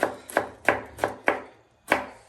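Onion is chopped fine with a knife on a board for kachumber, six crisp evenly spaced strikes, close and clear with no talking.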